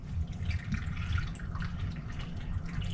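Water pours from a container onto chopped mango and banana for a mango-banana smoothie, a steady splashing, trickling stream that runs continuously at close range with no talking.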